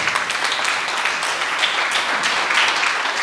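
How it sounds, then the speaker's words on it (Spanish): Crowd at a motivational gathering applauds in a steady, fairly loud wash of claps lasting the whole stretch, with no talk over it. "Dele un aplauso a Dios por eso."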